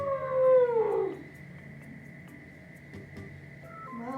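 A voice imitates an elephant trumpeting during a zoo-themed kids' yoga session, a loud rising-then-falling wavering call about a second long, followed by quiet room tone and a faint voice near the end.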